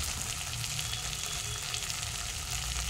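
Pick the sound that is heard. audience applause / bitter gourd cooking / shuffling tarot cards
bitter gourd cooking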